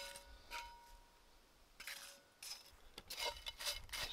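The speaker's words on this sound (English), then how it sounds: "mix that all together nicely there" Metal spoon stirring crispy bacon, including burnt bits, through a camp dish in a pan outdoors, giving scattered clinks and scrapes in short bursts, fairly quiet, with no talking.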